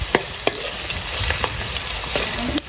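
Onions, green chillies and curry leaves fry in hot oil, a bright continuous sizzle close by, broken by several crisp ladle knocks and scrapes against the pan, with no voices.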